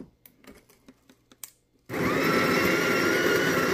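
Delonghi coffee grinder grinding coffee beans: a few light taps and clicks, then an abrupt, loud, steady whirring grind that starts close by and runs without a break to the end.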